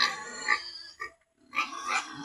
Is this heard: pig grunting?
yes